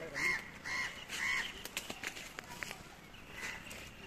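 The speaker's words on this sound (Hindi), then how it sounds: "कितनी चिड़िया आ गई" Crows caw three times close by, harsh and evenly spaced, among other birds, followed by scattered light footsteps and rustling.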